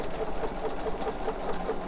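A sewing machine stitches quilt blocks and batting together with a steady, close mechanical whir and an even rapid beat of needle strokes, running alone throughout.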